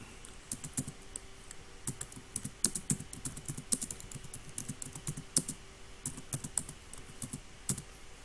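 Keys being tapped on a computer keyboard in quick, uneven bursts of light clicks with short pauses, fairly quiet and close, no voices.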